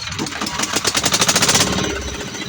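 A small fishing boat engine on a crab-net trip sputters to life, its rapid mechanical knocking pulses climbing into a steady loud chugging, then easing back as the idle settles.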